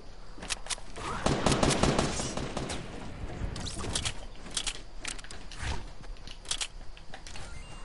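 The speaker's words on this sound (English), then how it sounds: "Yes, a shotgun." Gunfire in an online video game, a series of sharp loud bursts scattered across the stretch, heaviest early on, with mechanical clicks and creaks between shots.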